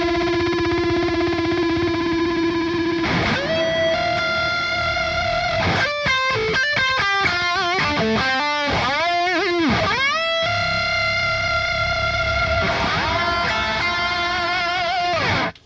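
Electric guitar run through stacked effects, stutter, reverb and an octave-up shift, producing sustained distorted tones broken by rapid choppy stuttering passages before the held notes return.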